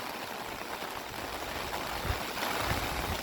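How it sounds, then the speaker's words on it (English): Floodwater from Hurricane Milton rushes down an overflowing roadside ditch toward a culvert, a steady broadband roar of flowing water close by with no voices. "Ditch over there cannot handle the amount of water that's flowing down."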